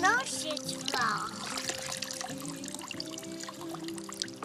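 Water pouring and trickling like a small waterfall, close and splashy, with a voice and other talk heard over it.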